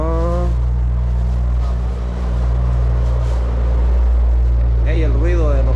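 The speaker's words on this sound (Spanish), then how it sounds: "el ruido de los carros aquí en la luz que se mira un poquito mejor" Cars move past at a street traffic light, a loud steady low engine and traffic roar with a revving vehicle near the end, while people talk over it.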